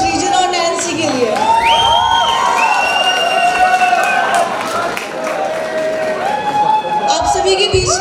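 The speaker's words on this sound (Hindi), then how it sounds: "जोरदार तालियां श्रीजन और नैन्सी के लिए।" A college freshers' event crowd in India gives loud, sustained applause and cheering for two performers, full of whoops and shouts over sweeping music.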